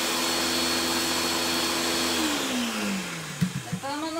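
Kitchen blender grinding fresh mint with egg and onion for meatball broth, a steady loud whir that dips in pitch near the end before stopping, followed by a few short clunks.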